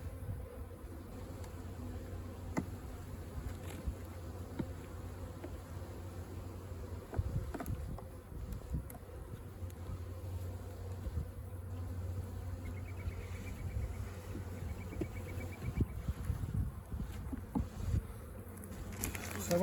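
Honeybees at an open hive in an orchard during almond pollination, a steady close drone of many wings with individual bees zipping past over a low background hum.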